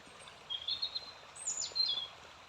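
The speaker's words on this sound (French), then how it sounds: "Un petit oiseau, le bruit de l'eau." A small bird chirps in short high bursts over the soft, steady wash of a small river, fairly faint and a little distant.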